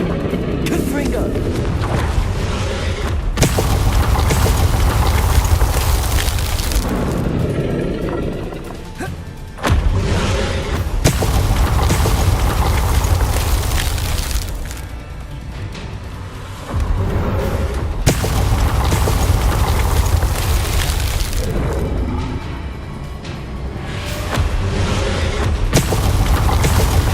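Repeated fiery blasts from the Confringo spell in Hogwarts Legacy, heavy booming explosions arriving in loud waves with crackling debris and rumbling, while voices talk over the combat.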